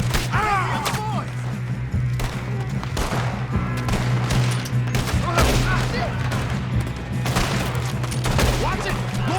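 Video game shootout with rapid bursts of gunfire and booming shots, dense and loud throughout, with shouting voices mixed in among the shots.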